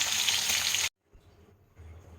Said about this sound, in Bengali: মাছগুলো এবারে আমি ভেজে নিয়েছি